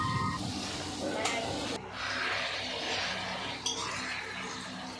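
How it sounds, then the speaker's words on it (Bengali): Spices with Kashmiri chili powder and garlic sizzle steadily in a pan while being stirred, with a few brief clinks and scrapes against the pan, close and continuous. "দেখো ভালো করে নাড়াচাড়া করে একটুখানি কষে নেবো"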